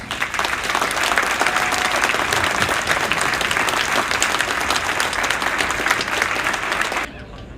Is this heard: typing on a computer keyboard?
no